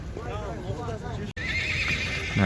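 A stallion neighs at a busy livestock market, its shrill whinny rising loud and close, with hoof clip-clops and people talking around it.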